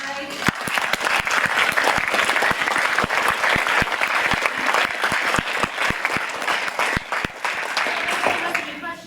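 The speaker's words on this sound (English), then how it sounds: "If we can just get one more round of applause for Mike." An audience at a CU Denver talk claps for the speaker in a full, sustained round with sharp individual claps standing out, close and loud, lasting about nine seconds.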